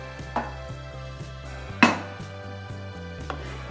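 A knife chops vegetables on a cutting board for a healthy side dish, with a few distinct knocks spaced irregularly, one sharper and louder than the rest, close by against a faint steady background hum.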